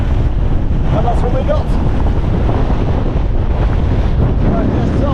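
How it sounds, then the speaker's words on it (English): Strong wind roars across a fell summit in the Lake District, a steady loud buffeting rush on the microphone that never lets up for five seconds. "it was forecast a bit windy, 40 knots and rain"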